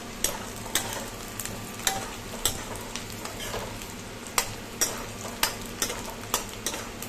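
Onions frying in a pan, a soft continuous sizzle punctuated by regular sharp taps and scrapes of a spoon stirring against the metal, roughly one every half second, close and fairly quiet.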